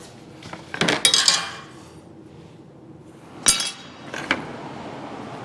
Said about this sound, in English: I'm just going to flip the tubes up